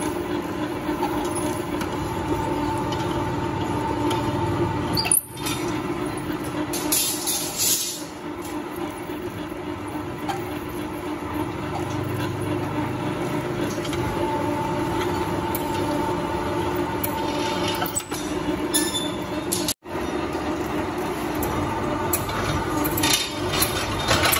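A machine straightening and cleaning rusty iron bars churns with a loud, continuous mechanical rumble and grind. Sharp clanks break in around five and twenty seconds, and nobody speaks.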